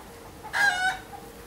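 A hen gives a single short, bright clucking call after laying an egg, brief and moderately distant against a quiet background.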